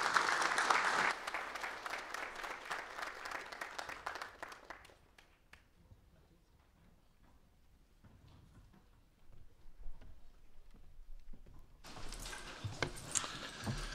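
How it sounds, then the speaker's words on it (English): A room full of people applauds loudly, the clapping fading into scattered claps and quiet before another burst of applause near the end. "Maybe one more hand of applause for Scott."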